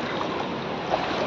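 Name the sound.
floodwater flowing fast on the street after heavy rain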